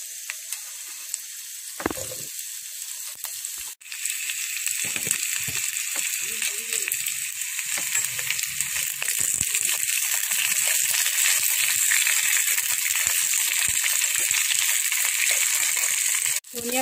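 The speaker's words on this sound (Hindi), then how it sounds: "काटि लोवा पियाज खिनिओ दि दिछु।" Chopped onions sizzle and fry in a pan, with a loud, steady hiss that builds after a brief pause and a few stirring clatters.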